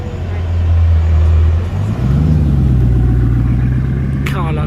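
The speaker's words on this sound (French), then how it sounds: "Bugatti Chiron qui arrive en convoi" A Bugatti Chiron hypercar rolls in with a convoy through a seaside resort street, its loud low engine drone holding steady and shifting pitch midway, with a short voice near the end.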